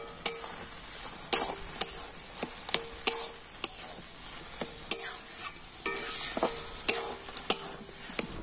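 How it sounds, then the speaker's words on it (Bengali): A spoon stirs a stiff palm-fruit sweet dough, bound with flour, in a hot pan, making a quick series of sharp scraping clicks and knocks against the metal over a faint sizzle, close up with no talking. "তো দেখুন এইভাবে নাড়াচাড়া করে ডোটা কিন্তু অনেকটাই টাইট করে নিয়েছি।"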